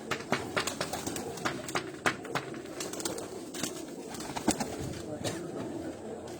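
Pigeons coo on a rooftop loft, soft repeated calls close by, mixed with scattered flutters and someone talking now and then.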